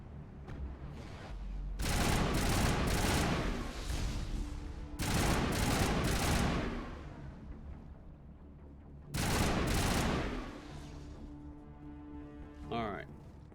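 Long bursts of rapid automatic gunfire in the Mass Effect video game, three loud sustained volleys separated by brief pauses, with a voice talking faintly beneath the shooting.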